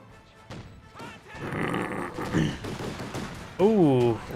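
Flak guns fire in the real-time strategy game Company of Heroes 2, heard as rough, dense bursts of gunfire. Someone commentator talks over them throughout.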